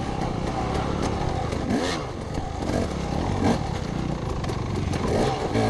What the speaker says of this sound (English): And there's that familiar 4-stroke thunder behind me.